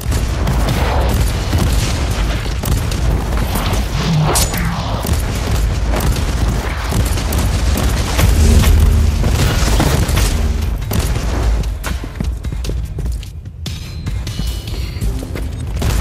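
Gunfire in Warhammer 40,000: Inquisitor - Martyr, sniper combat rendered as loud repeated booms and cracks over a constant low rumble, with a denser flurry midway and a brief lull near the end.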